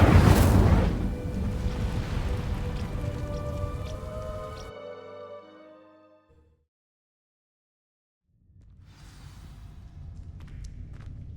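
A fire spell in Hogwarts Legacy igniting dry vines, a loud crackling whoosh that bursts and roars, fades into a tonal magical ringing, falls silent, then a low crackling rumble returns.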